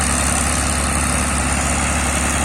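Engine of a large sand-carrying ship working on a river, a loud, steady low drone with constant vibration and no pauses, heard alone without voices.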